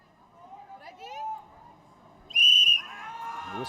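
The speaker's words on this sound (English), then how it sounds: "The whistle goes, she's off." Shrill whistle starting a SWAT challenge run during the UAE SWAT Challenge, one sharp loud blast of about a third of a second that follows quieter commentary-style talk, with crowd-like noise after it.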